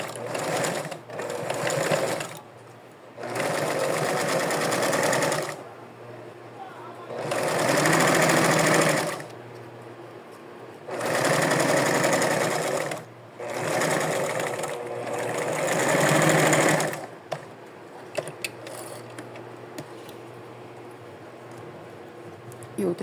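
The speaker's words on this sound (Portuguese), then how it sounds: "Agora eu vou costurar. Vou costurar aqui embaixo, passar uma costurinha de segurança" Sewing machine stitching a safety seam on doll clothes, running in several long steady bursts separated by short pauses, close and loud, then trailing off into small handling clicks.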